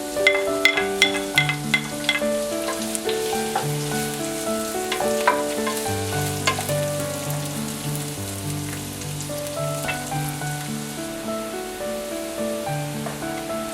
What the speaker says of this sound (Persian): توی تابه یه مقدار روغن میریزیم و یه دونه پیاز نگینی خورد کردیم سرخ میکنیم